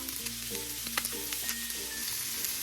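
Kapampangan pork sisig sizzles steadily on a hot plate as an egg goes in, a dense continuous crackle and hiss with faint scraping, no voices.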